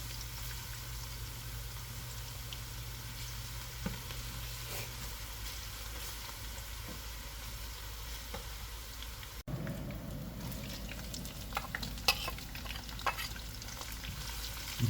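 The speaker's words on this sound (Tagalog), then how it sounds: "Yan at nilagay na niya bawang." Garlic fries in oil in a pan for pancit, giving a steady close sizzle with scattered pops and occasional stirring clinks, louder and rougher in the later seconds, no voices.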